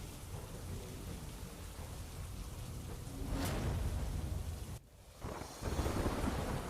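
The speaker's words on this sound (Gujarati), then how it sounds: "ગાજવીજ સાથે મોડાસામાં વરસાદ વરસ્યો।" Heavy monsoon rain with thunder in Modasa: a dense, continuous hiss of downpour with a low rumble of thunder rising midway and rain pounding on, no voices.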